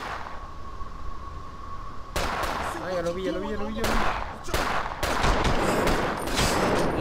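Bursts of rapid gunfire from the video game 25 to Life crackle in short volleys, with a whistling tone threaded through, and a voice briefly exclaims between shots.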